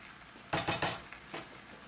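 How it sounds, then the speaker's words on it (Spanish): A spoon scrapes and clinks against a pan as mushrooms are stirred, three quick close strokes followed by a softer fourth, with no talking. "Echamos esto y entonces revolvemos aquí también los hongos"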